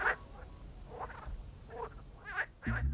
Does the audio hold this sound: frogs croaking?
yes